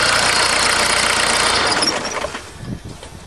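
Old mechanically injected diesel caravan engine idling with a loud, dense rumble that dies away as it is switched off, leaving a few fading knocks and rattles.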